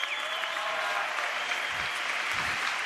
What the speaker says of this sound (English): Clap it up if you're a fucking nerd.